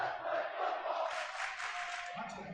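Student section at a boys high school basketball regional game, West Fargo Sheyenne against Fargo Davies, chanting together as a dense, steady crowd roar that stays loud throughout.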